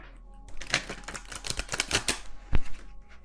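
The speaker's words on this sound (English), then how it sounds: "I'm just going to set down, to save time, one more card for each of these" Tarot cards are laid one after another onto a table in a quick run of crisp taps and slaps, ending with one louder card set down.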